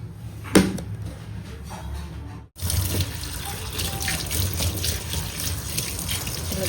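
Fresh leaves are washed by hand under a running kitchen tap, a steady splashing stream broken by a brief pause, close and continuous, with a faint clatter near the start.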